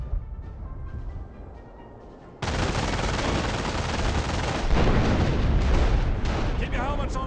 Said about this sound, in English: Get those 25-pounders firing.